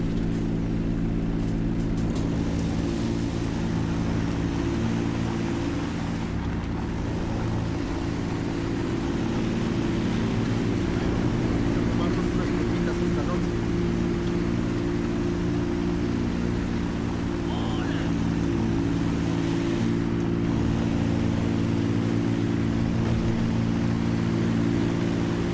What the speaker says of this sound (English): Right, I'm starting my engine.